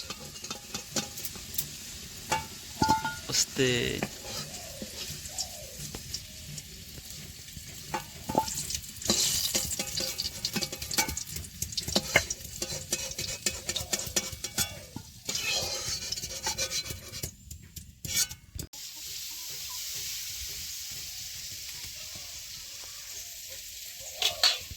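Goat meat stirred and frying in oil in a village kitchen, a steady sizzle with scraping stir strokes running throughout, fairly close, with a brief spoken word near the start.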